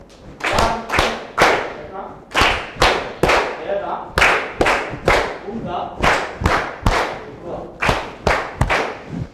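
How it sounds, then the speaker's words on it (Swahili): A group claps in a rhythmic pattern of sharp, regular bursts, loud and close, as in a patterned cheer rather than scattered applause, at a program closing ceremony. "So tunaweza wapatia makofi."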